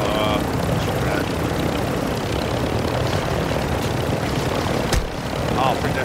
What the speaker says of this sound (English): Just go and get the chopper out.